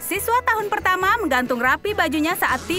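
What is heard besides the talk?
No distinct noise like a dog, phone or traffic.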